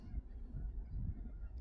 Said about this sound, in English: look at all the geese we got out there.